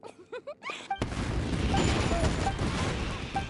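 Fireworks burst in the video game Genshin Impact: a sudden loud eruption of crackling, popping blasts that stays dense and sustained, following a few brief game chimes and tones.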